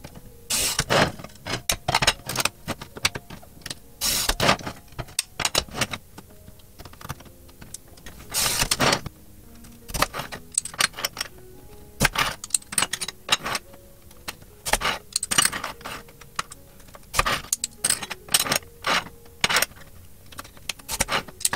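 Glass lengths for a fused glass display stand are cut and handled with a guide set to 2 centimetres, giving sharp irregular clicks, taps and scrapes in scattered close bursts with quiet gaps, no talk.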